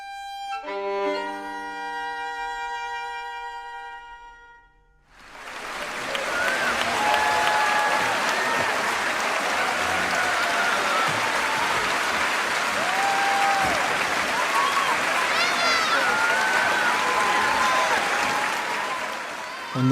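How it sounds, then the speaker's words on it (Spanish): A theatre audience bursts into sustained applause after a performance, dense and loud clapping filling the room for about fifteen seconds, preceded by a few seconds of sustained musical tones. "el público aplaudió con un fervor poco usual"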